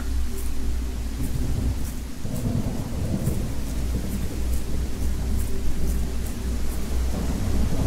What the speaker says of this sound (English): That's just the thunder.